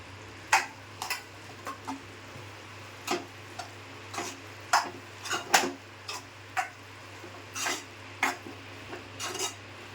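A spoon stirring and scraping sprouted moth bean curry with grated coconut and coriander in a pan, giving irregular soft clinks and scrapes at a steady pace over a low hum, with no talk.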